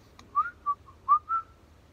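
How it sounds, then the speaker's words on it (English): A person whistles while working on a timber build, four short clear tuneful notes in a quick phrase over a faint background hum, alone without talk. "So whistle while you work."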